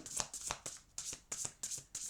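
Tarot cards being shuffled by hand in a series of crisp riffling bursts, about seven quick papery flutters in close succession, near and clear with no talking.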